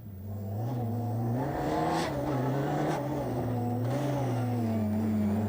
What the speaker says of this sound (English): René Kuipers getting the power down to some considerable effect here